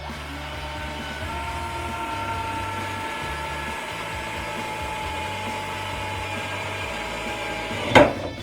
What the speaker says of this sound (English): you're just going to go straight down and start drilling